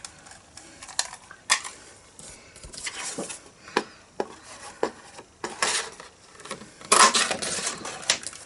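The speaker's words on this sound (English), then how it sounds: "I'm also going to punch out a piece of the gold foil sheet using the 2-inch circle punch" Gold foil sheet punched with a 2-inch circle punch on a crafting table, heard as a series of sharp clicks and crisp snaps, several separate close taps spread across the moment, with no talking.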